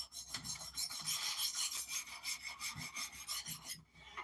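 A knife bevel is sharpened by hand, producing a quiet, rhythmic rasping scrape with regular back-and-forth strokes, roughly three per second, heard alone.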